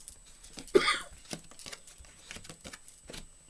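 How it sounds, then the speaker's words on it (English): A single short cough bursts out close to the microphone near the start, followed by quieter soft taps and small handling noises with no speech. "This cough is completely allergy."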